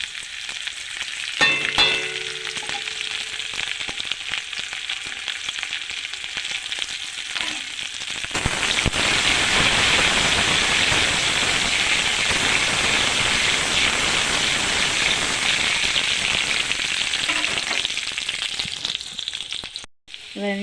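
Chopped green chili with chopped ginger hits hot oil in a pan, giving a steady loud sizzle that swells sharply partway through and keeps crackling, with brief stirring clatter early on.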